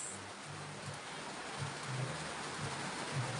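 Steady, soft rain hissing continuously in the background, with faint low rumbles now and then and no voices.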